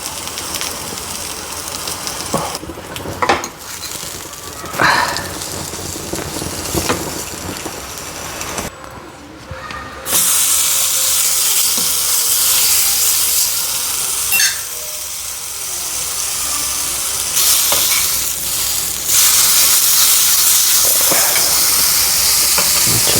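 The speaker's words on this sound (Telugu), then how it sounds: "కొంచెం నూనె వేసి, లిటిల్ బిట్ ఆఫ్ నూనె వేసి వంకాయని అటు ఇటు కాల్చుకుంటే" Brinjals roast in a little oil, first with intermittent scraping and turning against the pan, then a loud, steady hiss and sizzle takes over and carries on close by.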